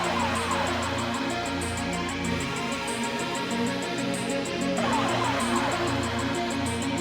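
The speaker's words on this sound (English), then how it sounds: "So of course we added trap hats during the chorus." Fast, steady trap hi-hats in a chorus of a cover tick softly on top of a full, sustained musical mix, subtle but constant throughout.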